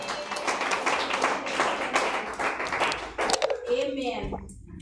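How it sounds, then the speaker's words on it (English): A church congregation claps briskly for a few seconds, with a preacher's voice speaking over the applause before it fades out. "You love, give him a hand clap."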